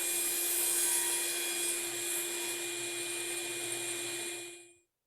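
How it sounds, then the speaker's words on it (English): A Craftsman radial arm saw set to crosscut runs steadily and loudly through wood face frame pieces, a continuous motor whine with cutting noise that holds for about four seconds before abruptly stopping. "Adjust the anti-kickback pawls and cross-cut the face frame pieces to length"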